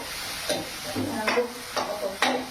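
Boiled potato pieces are stirred into a simmering fish curry with a soft, wet bubbling in the background. A spoon scrapes and knocks against the pot in a loose rhythm of about four strokes.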